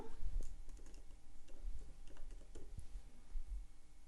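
Typing on a computer keyboard sets off quick, light, irregular key clicks up close, at a soft level against a low background hum.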